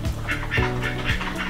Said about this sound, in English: She's listening to the ducks over here.